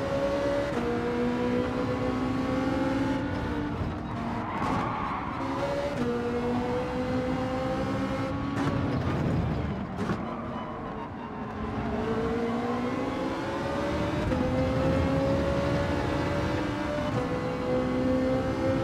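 A Ferrari race car engine in Gran Turismo 7 drones loudly and continuously, its pitch climbing and dropping through gear changes over nearly twenty seconds, with a dip in the middle before rising again.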